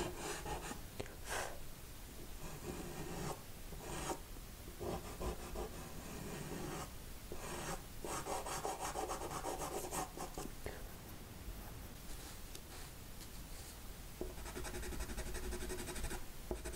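Brown colored pencil shades the shadows of an orchid drawing on paper in faint, close scratchy strokes, coming in short bursts with brief pauses between them.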